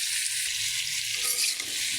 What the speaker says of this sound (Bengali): ভাজিটা এখন নেড়েছে